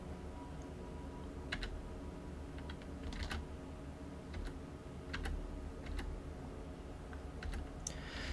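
Quiet clicks of a computer keyboard as someone tabs through a website, sparse irregular key presses over a steady room hum.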